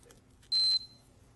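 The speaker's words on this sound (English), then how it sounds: "This is going to turn on and off the alarm. Just listen as you push that." A wristwatch alarm sounds once, a short loud high-pitched electronic beep lasting about a quarter second, ringing out alone against a quiet background.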